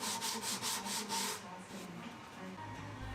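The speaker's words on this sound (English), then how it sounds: "I can then clean up those cuts with a block plane and a bit of sanding" Hand sanding on freshly cut wood for a birdhouse box, loud rhythmic rubbing strokes up close at first, then softer, steadier scraping with no voices.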